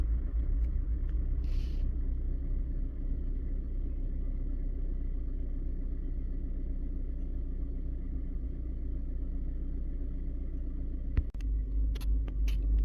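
A 2014 Chevy Equinox engine idling in neutral gives a steady, close low rumble that holds evenly throughout, with a couple of brief clicks near the end.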